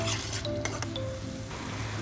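Fish curry ingredients with salt and turmeric sizzling and frying in a pan, with steady close sizzle, a few stirring scrapes and light clinks of a utensil against the pan throughout.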